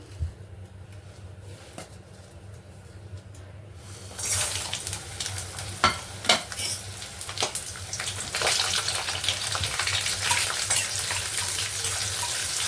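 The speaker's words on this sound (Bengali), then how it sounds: "এগুলো আমি তেলের মধ্যে ভেজে নেব" Spices, nuts, ginger and chillies fry in hot oil. A quiet background hum gives way at about four seconds to a loud, crackling sizzle with sharp pops. No one speaks.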